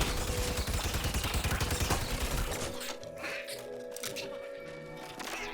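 Rapid gunfire rattles in Plants vs Zombies: Garden Warfare, shooting at frozen walls to break them open. A dense, loud burst fills the first few seconds, then tails off into scattered quieter shots while a voice talks.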